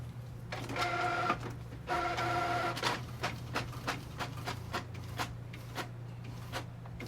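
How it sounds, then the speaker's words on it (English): An inkjet printer whirs and clicks close by as it prints a full-page tattoo design, with short bursts of carriage movement followed by a string of rhythmic mechanical ticks. "We are going to get a print from this design right here via the inkjet printer."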